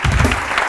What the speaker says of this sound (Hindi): एंड ऑफ कोर्स उरूज के लिए बहुत सारी तालियां।